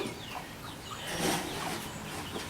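Chickens clucking softly in a noisy coop, several birds overlapping with a brief louder burst of calls in the middle.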